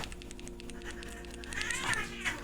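Cats meowing, a couple of short mews rising near the end over a steady background of game or stream noise.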